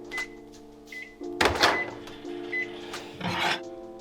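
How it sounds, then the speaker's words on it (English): A microwave oven beeps as it finishes, with three short, clear tones spread across a few seconds over steady humming and some clattering handling noise, in a Subway restaurant. "the microwave just went off"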